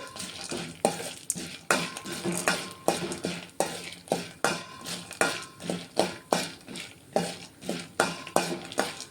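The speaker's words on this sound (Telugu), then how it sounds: "పల్లీలు శనగపప్పు మినపప్పు వేసుకున్నాను ఇవి కొంచెం ఫ్రై అవ్వాలి" Peanuts, chana dal and urad dal frying in a pan, a soft sizzle punctuated by a steady rhythm of ladle strokes scraping and knocking against the metal, close up and without talking.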